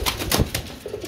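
Danish and racer pigeons at a pigeon market, a brief close burst of cooing with a soft flutter of wings, no talk over it.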